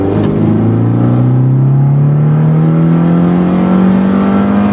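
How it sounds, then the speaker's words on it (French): An Opel Astra GSI 16v engine, about thirty years old, pulls hard from 20 to 80 in a single long gear, its loud, close drone rising smoothly and steadily in pitch with no break. "une petite reprise de 20 à 80 secondes pour écouter la sonorité de ce moteur Opel"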